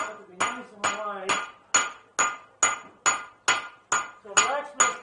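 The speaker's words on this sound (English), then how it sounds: "So I'm going to use a different hammer in order to get that started." A blacksmith hammers hot metal into a leaf shape on an anvil in a historic blacksmith shop, about a dozen sharp ringing strikes in a steady rhythm, loud and close, with a brief voice near the start.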